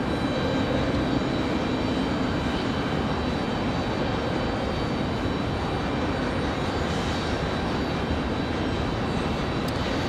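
Envoy Air jet airliner arriving at Raleigh Durham airport, heard as a steady, loud broadband engine roar that holds unbroken throughout with no voices.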